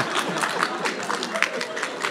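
Audience at a Speakers Corner talk session claps, a steady scattered patter of many hands at moderate loudness, with some crowd murmur mixed in beneath.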